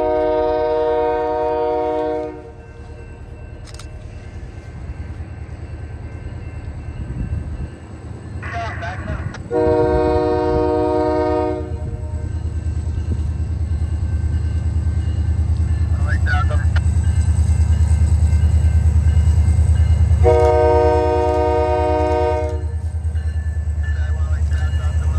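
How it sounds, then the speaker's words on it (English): A freight train hauled by a Buffalo and Pittsburgh GP40 diesel locomotive rumbles past in Vermont with a low, steady engine drone, sounding its horn in several short blasts, while a voice talks over the noise. "Train 500, the chip train, pulls down the bypass with Buffalo and Pittsburgh GP40 number 3000"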